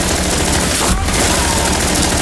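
Heavy automatic gunfire in the tactical shooter game Rainbow Six Siege, a loud dense continuous burst with a brief break near the middle, no talking.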